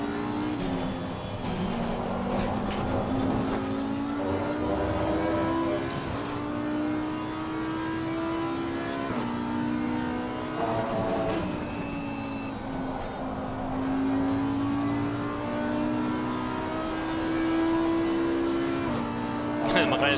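McLaren race car in a racing video game: a steady high engine drone with rising and falling pitch through gear changes that runs continuously at moderate level, with occasional speech faintly underneath.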